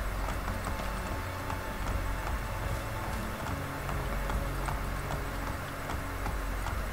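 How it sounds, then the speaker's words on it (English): Horse hooves clatter in a quick, continuous rhythm over steady ambient noise, like a trotting horse that keeps moving, from the video game Assassin's Creed Brotherhood. "Oh, the quick clap of horses' feet."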